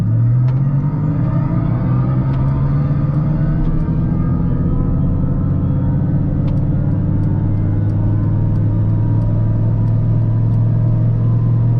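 A Mercedes-AMG EQS53 electric car launching from a race start, with a loud steady low drone and road rumble that rises gently as it gathers speed, heard from inside the cabin with no talk.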